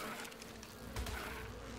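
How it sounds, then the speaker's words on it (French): Flies buzzing in the video game ARK, a faint, continuous insect drone hovering nearby under quiet game ambience, with a brief swell partway through. "Des mouches."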